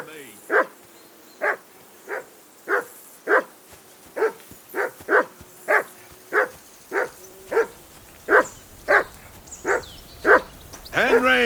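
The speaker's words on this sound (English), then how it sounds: "Whistle at that mutt of yours to stop barking." Dog barking in Kingdom Come: Deliverance II, a steady run of about eighteen single barks at a fairly even pace, moderately close, with a voice starting up at the very end.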